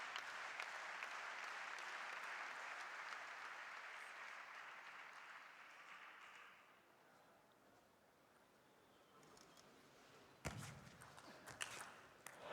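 Crowd applause sweeps through the arena at the 2015 ITTF World Tour Polish Open table tennis final, steady and broad before fading away, followed by a few sharp knocks and thuds.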